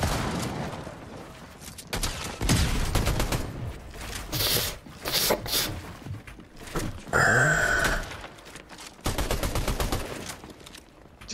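Pistol and shotgun gunfire in the video game Fortnite, with loud, rapid volleys of shots in several bursts, brief gaps between them and other game effects mixed in.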